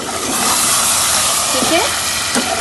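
Beef korma frying with whipped yogurt in a pot: a steady, loud hiss and sizzle runs through the whole short stretch, with no talk over it.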